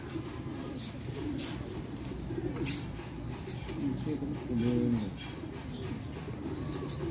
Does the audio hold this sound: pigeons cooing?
yes